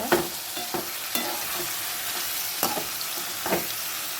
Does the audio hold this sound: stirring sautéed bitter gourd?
yes